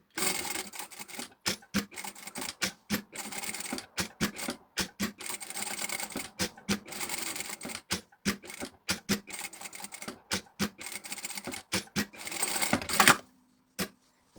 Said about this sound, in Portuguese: Vamos lá passar aqui uma costura